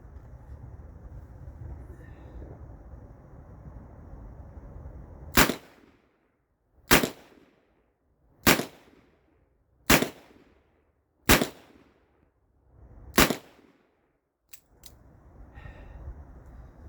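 Six sharp, loud gunshots from a 350 Legend pistol firing hand-loaded rounds in double action, spaced roughly a second and a half apart over steady background hiss, with a faint click or two after the last shot.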